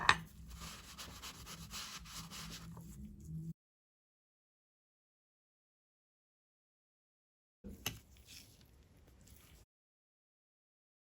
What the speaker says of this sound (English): I am removing the remains of the polishing paste